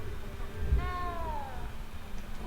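A cat in the game Hogwarts Legacy gives a single clear, drawn-out meow, heard briefly over quiet game ambience.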